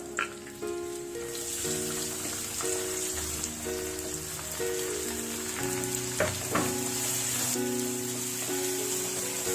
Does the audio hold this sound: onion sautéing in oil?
yes